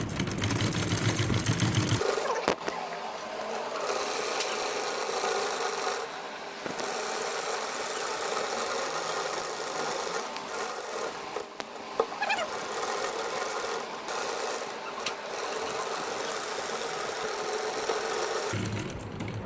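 A sewing machine runs steadily, stitching a double seam along a V-neckline on a garment, a continuous close mechanical whir with brief pauses, no talking.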